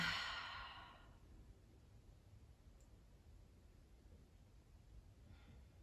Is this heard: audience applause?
no